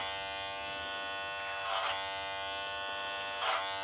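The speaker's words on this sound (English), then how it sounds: "I'm now using clipper over comb just to clean up the clip work underneath the layers" Electric hair clippers buzz in a steady, close drone while cleaning up clipper-over-comb work beneath sweepback taper layers during a haircut, with two brief louder swells from the blade touching hair.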